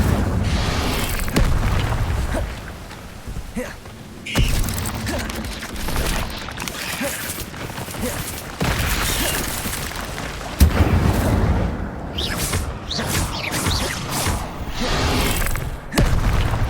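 Incendio fire spells blast repeatedly in Hogwarts Legacy gameplay, a series of loud booming bursts over dense combat effects and music, with cuts between impacts.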